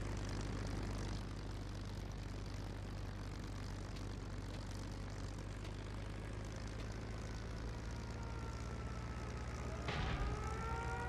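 A Spitfire IX's piston engine drones steadily in the IL-2 Sturmovik: Battle of Bodenplatte flight game, a dense continuous roar with a brief rise in pitch near the end, no voices.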